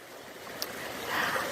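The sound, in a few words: backyard waterfall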